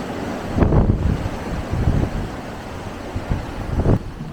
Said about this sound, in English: So it's very windy as well